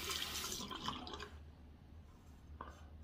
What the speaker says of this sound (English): So I have to run the water.